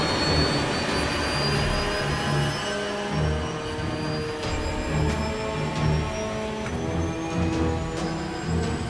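Boeing 737 jet engines roar steadily at high power during a go-around, a loud continuous whine and rumble with no let-up.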